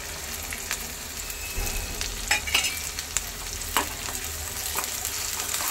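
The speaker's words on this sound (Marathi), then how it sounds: "कांदा आणि हिरवं वाटण व्यवस्थित परतून घेऊ" Onion and green paste sautéing in oil for a banana blossom dish, a continuous close sizzle punctuated by several sharp spatula scrapes and taps against the pan.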